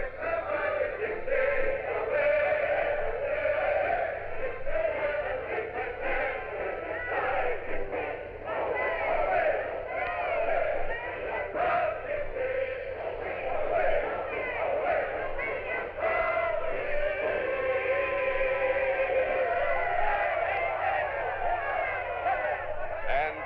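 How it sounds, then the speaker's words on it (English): A crowd sings together with a band, a dense and steady mass of voices and brass that holds at an even loudness throughout. "The crowd is joining in, singing the words rather defiantly."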